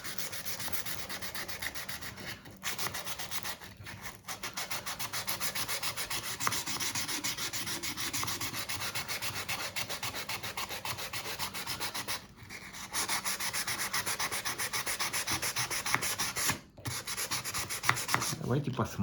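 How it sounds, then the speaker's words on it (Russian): Continuous hand sanding with sandpaper, removing scratches from a coarser grit, produces a steady, close rasping scrub in long sustained strokes, broken by a few brief pauses, with no talking. "Вот который способ я показал, вот сейчас, ручная шлифовка."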